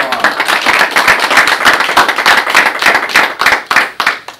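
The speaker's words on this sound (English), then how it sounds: "We give Mr. Quincy Jones a big round of applause." A crowd at a campaign event gives Quincy Jones a loud, dense round of applause, with rapid close-up hand claps dominating throughout and a few voices mixed in.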